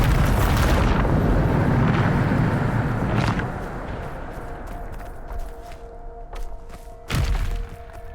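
Bombarda spell blast in Hogwarts Legacy: a loud, sustained booming rumble for about three seconds that fades into a softer tail, with a few sharp crackling hits and a final strong thump near the end.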